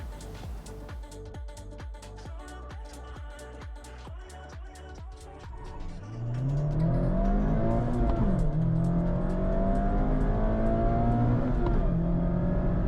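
A 2024 Mazda ND3 Miata engine idles with a rapid ticking beat, then revs up and accelerates on the road, its pitch rising and falling through gear changes, loud and close.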